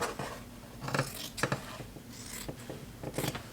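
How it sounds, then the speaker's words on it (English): Scissors snipping the corner off a flat sheet being made into a fitted sheet, several soft close crunching cuts in quick uneven rhythm over low room noise. "Cut off this corner."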